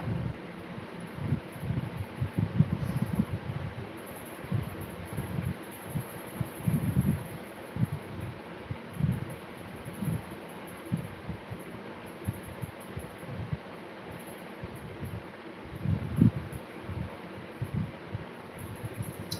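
Wind rumbles and buffets against the microphone in irregular low gusts, steady throughout without any talking.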